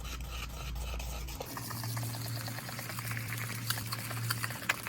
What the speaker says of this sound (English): I mix my bleach with a whisk